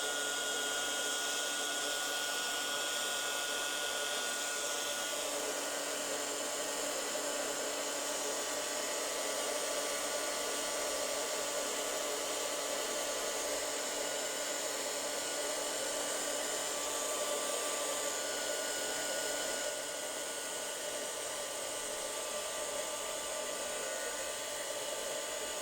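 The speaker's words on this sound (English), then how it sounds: "I'll just warm up the heat tool, so you might want to turn the volume down for a minute." A card-making heat tool runs continuously in a loud, steady hairdryer-like whoosh and whine, unbroken for the whole stretch with no talk.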